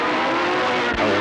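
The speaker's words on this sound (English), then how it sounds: "Cooper just gets the edge on Bartlett as they accelerate down the straight" Vintage racing cars roar away from the start, a loud dense engine blare with tyres briefly squealing, heard close and continuous.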